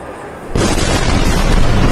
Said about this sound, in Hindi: एक जोरदार धमाका होता है